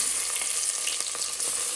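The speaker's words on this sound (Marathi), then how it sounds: "थोडेसे जिरे लाल होऊन घ्यायचे ते लगेच लाल होणार तर इथे मी लसूण टाकते" Garlic added to hot oil with cumin seeds for a kadhi tempering, giving a loud, dense, continuous sizzle at close range.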